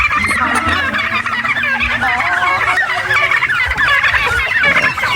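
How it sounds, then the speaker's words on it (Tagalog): A flock of farm fowl just let out of their coop fills the air with dense, overlapping gobbling and clucking calls, loud and close, with no voices over them. "Ito yung mga manok na galing sa loob ng kulungan."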